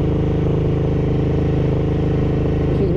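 Ducati 900SS Bevel motorcycle idling or held at part throttle, its exhaust a steady, loud, close-up mechanical drone with even rapid pulsing throughout, no talk.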